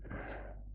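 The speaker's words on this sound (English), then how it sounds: "I'm about to sneeze." A single short, breathy sneeze from a man, close and loud, a brief burst of air lasting under a second.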